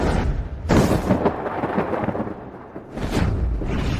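Thunder-like lightning and flame strike effect from a fantasy drama, with heavy rumbling crashes that swell at the start and again near the end, loud and continuous with no talk.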